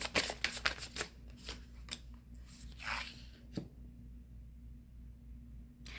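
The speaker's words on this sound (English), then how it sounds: "Let me shuffle some more." Tarot cards are shuffled in a quick flurry of riffling snaps, then a few softer slides and taps before falling quiet, close and fairly soft.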